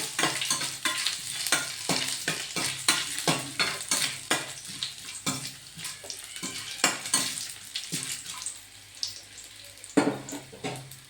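Urad dal tempering crackles in hot oil in a pan as it is stirred for idli upma, a close sizzle broken by rhythmic scraping strokes of a spoon, no voices.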